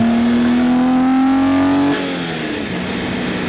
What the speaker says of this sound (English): Sounds just like a 6-cylinder BMW. At least they're driving it hard.